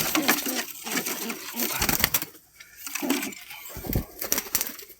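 Pigeons land one after another in a breeding loft, giving bursts of loud wing flapping and rustling, with soft cooing mixed in across a busy, close scene.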